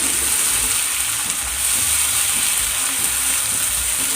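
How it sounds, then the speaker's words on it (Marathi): Cashew and coconut paste mixed with yogurt frying in a pan for a fasting-day vegetable gravy, a loud, steady, close sizzle with faint stirring scrapes and no voices. "यामध्ये काजू आणि खोबऱ्याची जी पेस्ट आपण करून घेतलेली होती दही घालून ती मिक्स करून घेतणार आहोत ती व्यवस्थित आपल्याला फ्राय करून घ्यायची आहे"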